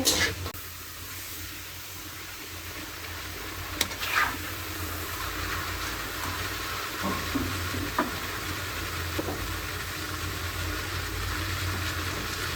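Chicken fries in a pan with a constant bright sizzle and hiss, broken by occasional clicks and scrapes of a utensil, close and fairly loud throughout.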